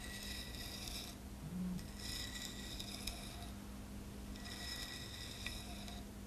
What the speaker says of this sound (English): We're going to scrape some of this off now so you can see how easy the mastic comes off.